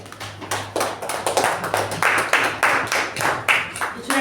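A small club audience at a Toastmasters meeting claps in distinct, fairly sparse hand claps, close and moderately loud, building into a steadier patter of applause.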